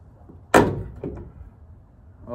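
A tail light assembly pulled out of a Toyota Tundra lets go with one loud, sharp plastic clunk. A couple of softer knocks follow, then a faint rustle.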